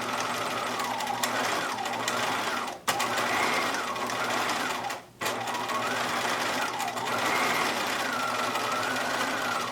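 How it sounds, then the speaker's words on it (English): Sewing machine top stitching a fabric face mask, running in steady continuous bursts with two brief pauses, close and fairly loud with no talk. "I'm stitching about 1/8 of an inch away from the seam line"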